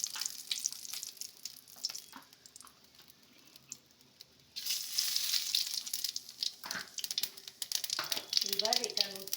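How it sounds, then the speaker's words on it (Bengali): Bay leaf, dried chilli and cumin crackle in hot oil, starting as a soft hiss that jumps into a louder, dense sizzle midway, with a voice speaking over it near the end. "এইবারে গরম তেলের মধ্যে তেজপাতা ছেড়ে দিয়েছি, এদিকে একটু শুকনো লঙ্কাও দেওয়া হয়েছে"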